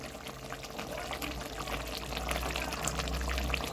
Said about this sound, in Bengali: এবারে একটু কাঁচা তেল দিয়ে দেবো